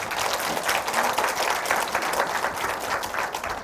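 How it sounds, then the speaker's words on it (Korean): An audience at a Buddhist monk's public talk in Busan breaks into steady applause. Many hands clap evenly and fill the hall for several seconds without a break. "여러분 박수 부탁드립니다."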